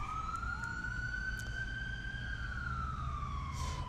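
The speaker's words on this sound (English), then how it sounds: "A lot of ambulances today." A wailing emergency siren, attributed to an ambulance, passes near a riverbank during a carp fishing session, holding a steady tone that slowly rises then falls away, moderately distant over a constant low rumble of background noise.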